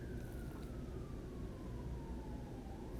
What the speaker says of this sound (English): I hear a siren out there.